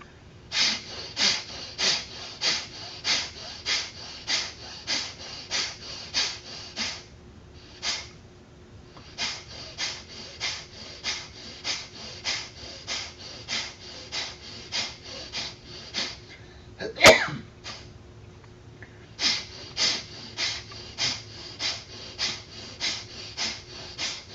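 Pranayama breathing in short, forceful bursts through both inhale and exhale, close and loud, coming in rapid rhythmic runs separated by brief pauses, with one sharp click partway through.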